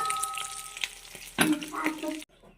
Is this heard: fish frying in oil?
yes